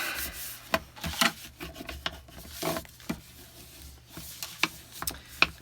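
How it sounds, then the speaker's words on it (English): A bone folder rubs along paper edges to burnish a handmade paper folio, making close, dry scraping strokes in short, uneven bursts with small taps between them. "Just use your bone folder to burnish those edges."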